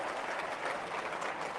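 Crowd at a Barcelona castellers human-tower event applauding, a dense steady patter of many hands clapping, fairly distant and continuous for the short stretch, with no voices standing out.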